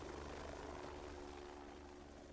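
Helicopter flying through the night sky, a faint, distant broadband rotor and engine rumble with steady, unchanging texture throughout.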